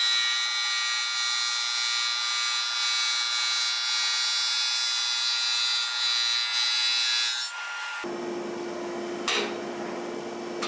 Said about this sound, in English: drum sander.